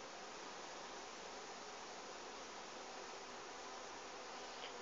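Honeybees swarming around a newly installed hive, a dense, steady buzz that fills the air evenly without breaks, with no voices over it.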